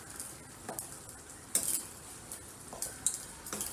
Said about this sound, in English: While the meat's still cooking, it's almost done or whatever.